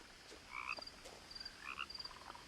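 Faint frog croaks from the video game What Remains of Edith Finch, two short paired calls repeating about a second apart over a quiet ambient hum.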